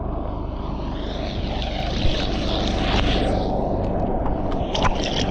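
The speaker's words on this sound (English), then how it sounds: "There's the shark chopper." Shark-spotting helicopter flying over the water off Australia, a steady broadband rotor and engine drone that stays loud and continuous throughout, with wind and water noise mixed in.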